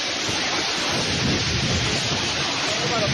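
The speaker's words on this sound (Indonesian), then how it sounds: "Hujan deras disertai angin kencang terjang Purbalingga, Jawa Tengah." Heavy rain with strong wind and thunder in Purbalingga, Central Java: a dense, steady, loud roar of downpour and gusts with deep rumbling underneath, continuous throughout and no clear voices.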